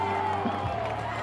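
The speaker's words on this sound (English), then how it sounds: "Crowd is on its feet." A high school football crowd in the stands at a Edmund Burke Spartans versus Trinity Crusaders game, roaring steadily as fans rise to their feet, a continuous dense wash of cheering with a steady hum beneath.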